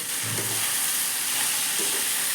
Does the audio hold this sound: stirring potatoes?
yes